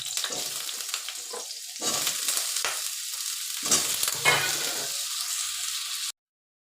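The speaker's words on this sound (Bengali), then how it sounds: "1 চামচ তেল দিয়ে আমি আলুটা ভেজে নেব।" Potatoes seasoned with salt and turmeric fry in a spoonful of oil, sizzling steadily at close range with bursts of stirring and crackle, and no voices.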